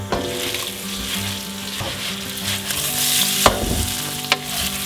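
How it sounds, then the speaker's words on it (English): Seasoned tofu sizzles in about two tablespoons of hot coconut oil, a loud, steady, close frying hiss with a few sharper crackles and pops and no voices. "Throw the seasoned tofu into the hot oil."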